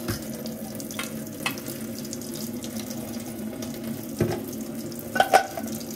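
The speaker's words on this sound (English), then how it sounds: "I'm just going to drain this. I'll run some cold water here." Cold water running steadily from a kitchen tap over noodles being drained in a sink, a continuous rushing flow with a few soft knocks and clatters of cookware.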